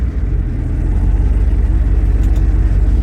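A 1979 Ford F250 with a 351M V8 idles low and steady at close range, giving a deep, even rumble with no voices.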